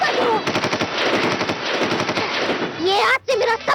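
Rapid machine-gun fire bursts loudly through a noisy red-carpet awards event, dense and continuous across the clip with only a brief gap near the end.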